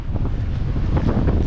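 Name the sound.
strong wind at the seaside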